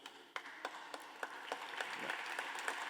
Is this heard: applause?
yes